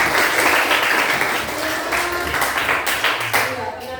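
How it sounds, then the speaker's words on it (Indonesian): Students clapping together in a classroom, a dense steady patter of applause lasting about four seconds with faint voices mixed in, fading slightly toward the end. "Oke, tepuk tangan dulu."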